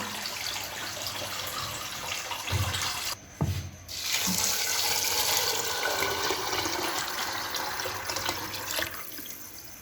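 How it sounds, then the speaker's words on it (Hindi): Water running and pouring into a pot of chickpeas being readied for cooking, a continuous splashing rush with a brief break and a clink partway through, close and steady. "1 किलो चनों में हम 3 किलो पानी शामिल करके हम इसको चूल्हे पे रख देंगे"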